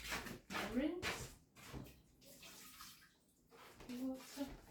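Running water rinses in a kitchen, with soft splashing bursts and a faint voice sounding over the flow.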